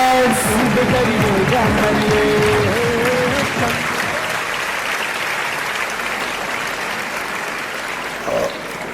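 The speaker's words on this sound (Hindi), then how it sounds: "एक बार जोरदार तालियों के साथ" Loud, sustained applause from a stage-ceremony audience honoring exam achievers, dense clapping filling the whole stretch with some voices and cheers mixed in early on, gradually easing slightly toward the end.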